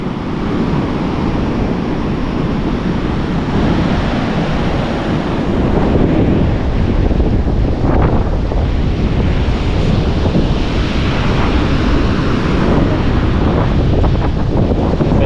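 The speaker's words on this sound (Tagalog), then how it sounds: "Lakas ng hangin." Strong wind roars loudly and steadily into the microphone, a dense rushing buffet that never lets up, with no voices.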